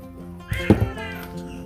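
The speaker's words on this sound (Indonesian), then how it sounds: "Aduh, kucingku, si kucing mengganggu." A pet cat meows indoors, a short pair of close, mid-loud cries over a quiet room hum, interrupting someone showing off a dark blue bacan gemstone ring.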